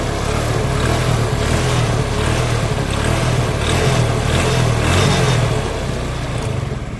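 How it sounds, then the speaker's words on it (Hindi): Apache RTR 180 motorcycle engine with a crank fault, running close up with a loud, steady rumble and a rough mechanical knocking over the idle, rising slightly before easing off at the end. "तो देखिए यहाँ पर इसके अंदर से क्रैंक की आवाज़ आ रही है।"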